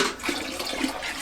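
Hot malt extract poured straight into a brewing kettle for an American pale ale, giving a steady rushing, splashing liquid sound up close with no talk.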